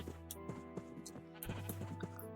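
Sheep in a video game bleat repeatedly in short, overlapping calls over soft background music, fairly close and clear.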